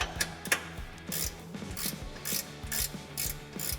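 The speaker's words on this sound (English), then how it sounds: "We're going to use a 13mm wrench and socket to get those out." A ratchet with a 13mm socket loosening a bolt under a 2018 Jeep Wrangler JL during an exhaust install, close rapid clicking in repeated short bursts with a steady back-and-forth rhythm.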